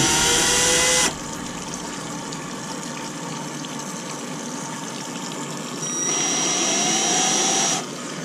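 A power drill spins a Torx bit to back out a broken screw on a Polaris 280 pool cleaner: one loud whirring burst at the start, a quieter stretch, then a second sustained run near the end.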